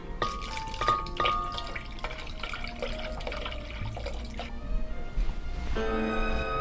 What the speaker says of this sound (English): we've added some spring water to our blender